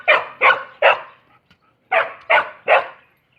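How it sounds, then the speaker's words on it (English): A dog in a garden gives a playful bark, two bursts of three sharp close barks each, loud and evenly spaced with a short pause between the groups. "This is her playful bark."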